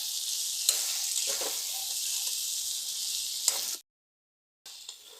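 Teasel gourd stir-fried with peanut paste sizzles loudly and steadily in hot oil, with faint stirring scrapes, then cuts to near silence for a moment before the sizzle resumes.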